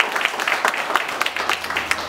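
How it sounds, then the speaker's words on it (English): Short burst of crowd clapping for a panel at a parents' event, steady and moderately loud for about two seconds. "Give them a round of applause."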